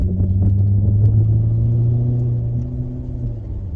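A Hyundai Genesis 5.0 V8 with a throttle pedal controller, in sport mode at a steady 2,000 RPM, hums as a low, even engine drone from inside the car. The drone holds steady throughout and eases slightly toward the end, with no talk.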